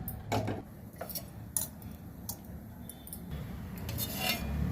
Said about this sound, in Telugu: స్టవ్ అంటించి కడాయి పెట్టాను